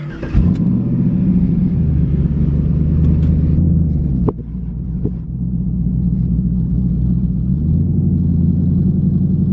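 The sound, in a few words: V8 car engine starting and idling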